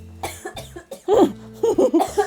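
Several short, harsh coughs in quick bursts, close by, with brief pauses between them and a few voiced, throaty sounds mixed in.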